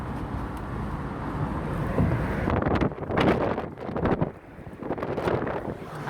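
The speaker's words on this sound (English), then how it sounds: "you can hear the air in the car" Rushing wind buffets the cabin of a moving car driven with its windows down and a plastic emergency window cover fitted, a loud steady roar swelling and dipping in gusts for several seconds.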